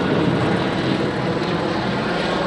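Low-flying police helicopter overhead, a loud, continuous rumbling drone of rotor and engine holding steady and near without pause.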